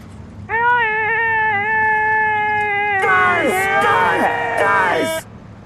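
A voice makes a loud, nasal, whining drone imitating the most annoying sound in the world, holding a steady tone before a second voice joins in with shrill, wavering yelps in a clamorous, overlapping duet.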